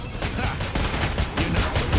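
An AA-12 automatic shotgun firing in Killing Floor 2, a rapid burst of loud, close shots in a regular rhythm of about six per second, with game sounds layered underneath.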